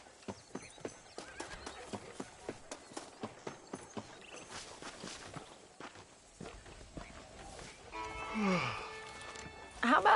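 Horse hooves in the video game Red Dead Redemption clip-clop in a steady walking rhythm, fairly quiet, then fade as a horse whinnies and faint talk follows.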